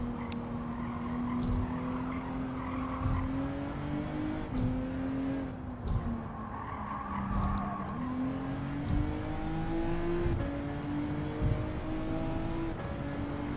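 A race car in Gran Turismo 7 on the WTC 600 Tokyo East course, its engine droning loud and steady while it climbs through the gears in a series of upshifts, with a tire squeal partway through.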